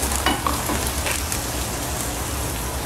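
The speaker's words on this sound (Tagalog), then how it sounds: "Sige, ngayon ilagay mo yung kalabasa ngayon. Igisa mo rin dyan, isang kutsa mo." Squash sizzles steadily as it sautés in a pan in a house kitchen, a dense, continuous frying hiss with a few brief stirring clicks near the start and no voices.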